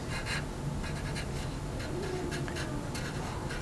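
A pen writes on a board in quick scratchy strokes during a volume-of-solids lesson, close and steady over a faint room hum.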